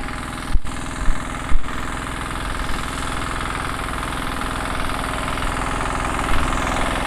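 A close, steady motorcycle engine idles with a rough, throbbing rumble, a few louder knocks early on, running continuously without talk.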